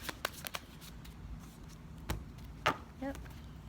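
Tarot cards are handled and shuffled up close, with a few sharp snaps and slaps spaced irregularly, plus a brief low voice-like sound near the end.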